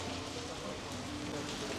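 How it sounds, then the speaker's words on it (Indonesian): Steady rain falling outdoors in Vanuatu, a faint, even wash of patter throughout with no distinct drops standing out. "Ini yang kemarin sore, ini sekarang hujan."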